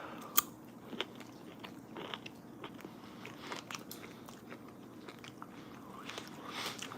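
Someone eats a bite of cooked, juicy, fatty steak close to the mic. Soft wet chewing and occasional small crunchy bites sit over faint background hiss.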